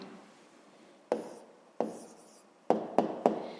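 A pen makes soft, quiet scratching strokes on paper as the answer to a fifth-grade math exercise goes down, in five short separate marks with brief pauses between them.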